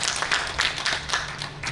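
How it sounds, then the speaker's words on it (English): Audience at a summit panel session clapping for the panelists, a brief patter of scattered hands, moderately faint, with no speech over it. "give them a round of applause for them"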